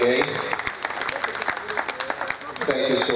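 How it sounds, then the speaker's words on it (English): Attendees at a business roundtable on the construction industry applaud, a steady round of clapping with sharp individual claps near the front and voices mixed in over it. "Please, a round of applause for him once again."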